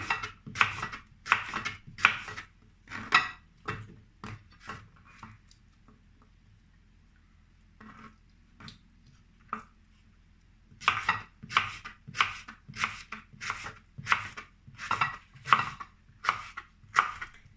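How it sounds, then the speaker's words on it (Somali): A knife chops cucumber for a salad on a cutting board in quick, sharp, close rhythmic strokes, pausing for several seconds before resuming a steady run of cuts. "waa kan qajaarka san ugu gooni"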